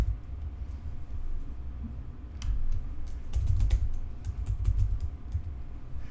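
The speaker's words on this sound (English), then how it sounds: "I didn't type these in right." Rapid typing on a computer keyboard, close and steady, with a denser flurry of keystrokes partway through over a low background hum.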